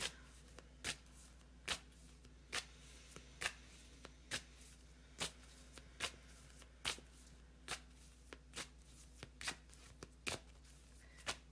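Tarot cards being shuffled close by in repeated short riffling bursts at a fairly even rhythm, quiet with no talking.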